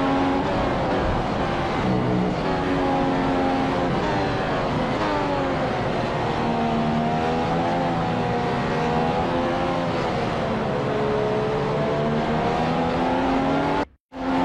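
Formula 1 race car engines in a racing video game scream at high revs, rising and falling through gear changes with other cars around, loud and steady until a brief cut near the end.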